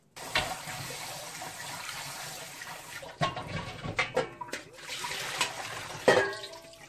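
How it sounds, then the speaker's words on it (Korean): Tap water runs steadily while salted bellflower root is rinsed in a kitchen. Occasional splashes and clatters of handling break the flow, with no talking. "이제 물로 헹궈서 받치겠습니다"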